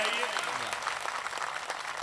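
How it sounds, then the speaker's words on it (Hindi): Audience applause at a Hindi-language public gathering, a dense steady patter of many clapping hands filling the whole stretch, with voices faintly mixed in. "ताली बजाइए"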